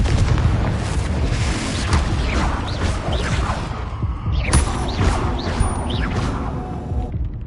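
Confringo fire spell explosions in the video game Hogwarts Legacy, with loud repeated booms and crashes layered over a dense, continuous combat din.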